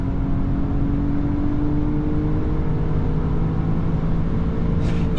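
A 2008 Audi A6 2.8 FSI Quattro with a naturally aspirated engine accelerates at full throttle in S mode, heard from inside as a loud, steady engine drone with a rising tone, without speech.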